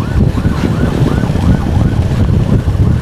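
An ambulance siren wails loudly and close, its pitch sweeping up and down in repeated cycles over a rumbling road and engine, with no talk.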